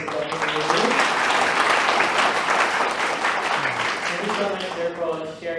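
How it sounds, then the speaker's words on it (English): A round of applause from the audience at a youth public speaking and debate competition, sustained clapping that swells then eases, with someone speaking over it toward the end. "Let's give a round of applause."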